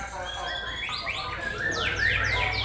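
Songbirds sing at a bird sound competition audition in Yogyakarta, Java, with several bright overlapping whistles and sweeping trills filling the air steadily, faint crowd murmur underneath.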